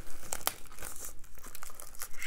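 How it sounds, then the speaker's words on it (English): Plastic wrap crinkles and tears as it is peeled off a Blu-ray box set of The Outer Limits, close and crisp, with rapid irregular crackles and a few sharper rips. "let's get this unwrapped"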